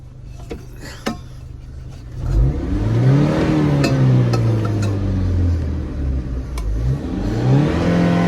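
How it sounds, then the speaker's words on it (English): A car engine, on a car with an air conditioning fault, is revved up from idle in repeated rising and falling surges, close and fairly loud, with a few clicks before it starts climbing. "I'm gonna try to rev it up again"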